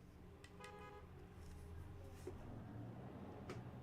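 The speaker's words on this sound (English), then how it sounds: "And I honk my horn twice." Car horn in Forza Horizon 5 sounds two quick, faint toots close together, followed by a low engine hum and light game ambience.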